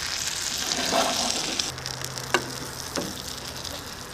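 Mantis shrimp sizzling in a pan of hot butter, a steady, moderately loud crackle with a couple of soft clinks and stirring sounds.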